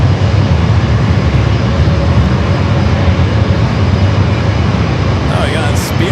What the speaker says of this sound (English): American A321 heading back to Dallas